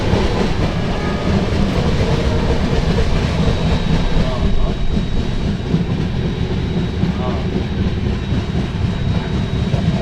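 Vasco Jasidih Express train running on rails in India, a loud steady rumble of wheels with rhythmic clickety-clack over rail joints, heard from inside the moving train for the whole stretch.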